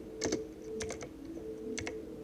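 Quick keystrokes on a computer keyboard while working at a Windows command line come in a few short clusters of crisp clicks, close and fairly quiet, with no talking.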